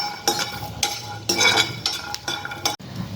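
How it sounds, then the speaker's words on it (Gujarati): Garlic cloves roast slowly in a pan over low heat, with soft sizzling and repeated scraping strokes of a spoon stirring them, close and fairly quiet with no talk. "લસણ હવે શેકાવા આવ્યું છે।"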